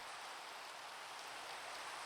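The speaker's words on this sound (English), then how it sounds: "I just want the rain to stop." Video game rain pours down, a steady soft hiss of falling drops that is faint and even, with no voices.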